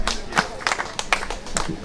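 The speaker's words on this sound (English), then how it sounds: "Give him a big Tivoli Gardens round of applause." An audience at a Tivoli Gardens community event in Jamaica gives a smattering of claps, a few distinct sharp hand claps in an irregular rhythm, with speech mixed in.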